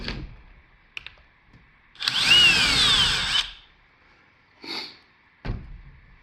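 A power drill bores a hole through a homemade dryer vent plug in one loud, close burst of whining, grinding drilling lasting about a second and a half, with clicks and handling knocks before and after.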